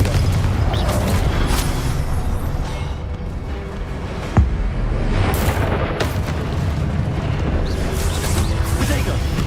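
Confringo blasting-spell explosions in Hogwarts Legacy at Rookwood Castle boom loudly amid continuous combat rumble, with one sharp burst standing out midway.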